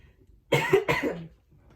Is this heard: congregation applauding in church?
no